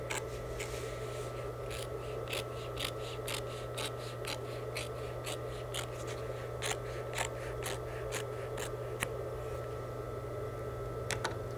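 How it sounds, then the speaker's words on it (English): Scissors trim away the top fabric layer inside a seam allowance, snipping in a steady run of crisp cuts across the whole stretch over a constant low hum, with no talking. "we're going to take this panel and cut away the top layer inside the seam allowance and trimming it away"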